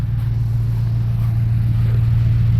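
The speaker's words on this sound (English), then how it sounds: "of course it revs nicely, beautiful" A car engine fitted with a Voltarent ECU runs loud and close at a steady, even pitch, a deep constant drone with no voices over it.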